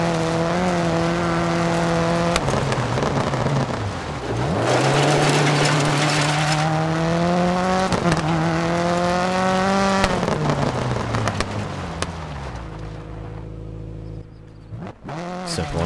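A Subaru rally car in DiRT 4 slides across a loose surface, its engine revving loudly and rising and falling in pitch through gear changes, with a brief drop near the end.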